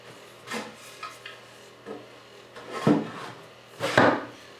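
A wooden planing stop board on a Roubo workbench is handled and flipped over, giving several close, hollow wooden knocks and scrapes. The last two thuds are the loudest, and there is no talk.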